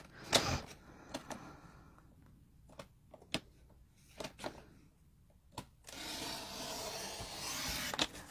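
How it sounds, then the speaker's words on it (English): A blade trims the edges of a handmade paper journal: a series of scattered sharp cuts and scrapes with quiet gaps between them, ending in a longer, continuous rasping slice. "I'm going to just trim this side up."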